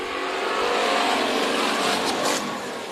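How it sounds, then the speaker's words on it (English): Hobby Stock race cars circling Bakersfield Speedway during a heat race, a loud continuous roar of several engines revving and passing close by, with no talk. "As Hobby Stock Heat Race number 2 comes around the track, and we are racing."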